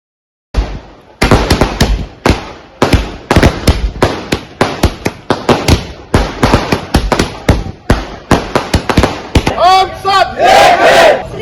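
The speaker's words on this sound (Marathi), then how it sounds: "हमाल माथडी कामगारांनी फटाके फोडून जल्लोष केला" Firecrackers burst in a rapid, uneven string of loud sharp cracks at a street celebration by porters and labourers, with a crowd cheering and shouting near the end.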